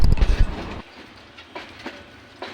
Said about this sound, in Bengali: আমাদের কুড়িগ্রাম এক্সপ্রেস ট্রেনটি নাটের স্টেশন থেকে তার নেক্সট স্টেশনের জন্য গন্তব্য শুরু করছে